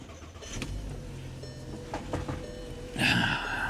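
A used Mercedes S550 sits idling rough at a salvage auction yard: a low, uneven engine hum with scattered clicks and knocks, then a brief louder burst near the end.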